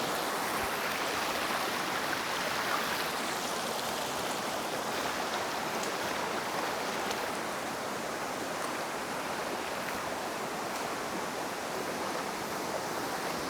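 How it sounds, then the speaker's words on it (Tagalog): A river near Monterico (Madulas) Falls in Baybay rushes steadily as it is crossed, a constant broadband wash of flowing water, close and continuous with no talk. "Guys, tumatawid kami ng ilog."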